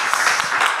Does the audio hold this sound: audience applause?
yes